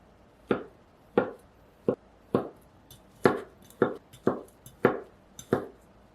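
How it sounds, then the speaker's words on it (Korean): A knife chops potatoes into bite-size pieces on a cutting board, about ten distinct, evenly spaced knocks sounding close and moderately loud with no talking. "먹기 좋게 한 입 크기로 썰어주세요."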